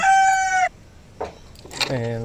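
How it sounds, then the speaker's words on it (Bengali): A native desi chicken in a farm coop lets out a loud drawn-out call, then a few short clucks follow nearby, ending with another tonal cackle. "এই তো, এই দেখো মুরগি। এই যে আমার মুরগি।"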